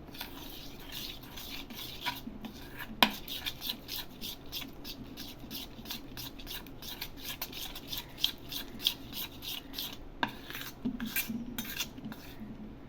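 Spoon stirring a bread cake mixture in a bowl, producing repeated soft scraping and clinking strokes in a steady rhythm, quiet and close, with no talking.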